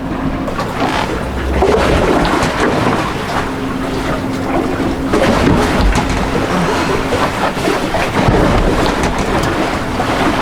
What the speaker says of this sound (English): We are at anchor. And the boat is rolling hard.